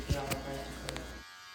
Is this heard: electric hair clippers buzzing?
yes